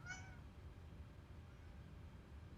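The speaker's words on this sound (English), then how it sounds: "Meow." A single short cat meow sounds faintly at the very start, then fades into a quiet, low room hum for the rest.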